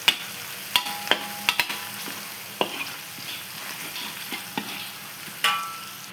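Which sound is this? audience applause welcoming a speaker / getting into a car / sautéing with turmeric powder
sautéing with turmeric powder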